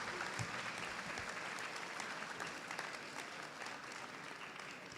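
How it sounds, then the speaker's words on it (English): An audience at a high school SkillsUSA induction ceremony gives sustained applause, a dense, even wash of clapping that holds steady throughout. "give yourself a round of applause."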